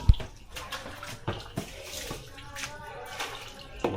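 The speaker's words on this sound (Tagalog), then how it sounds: "Naghuhugas ng salaan." Water runs from a tap over a strainer being washed, a soft continuous splashing with a few sharper knocks and clatters of the strainer, with faint voices in the background.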